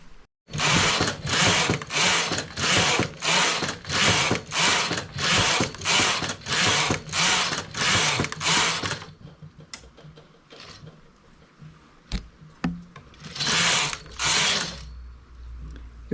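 A home knitting machine knits a double-rib border in mottled wool, its carriage sweeping back and forth in a fast, loud, even rhythm of about a dozen passes, then pausing with scattered clicks before two more strokes.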